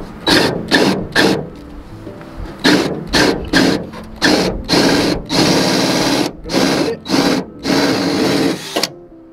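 A drill gun drives screws out of a 2019 Subaru WRX duckbill spoiler in loud, close bursts of whirring, several short pulses followed by longer runs with brief gaps.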